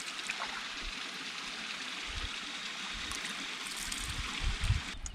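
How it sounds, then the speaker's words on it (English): Small waterfalls and rapids on a creek in Woodland Caribou Provincial Park make a steady, moderately distant rushing hiss, with faint low thumps near the end. "I hear some little falls or rapids."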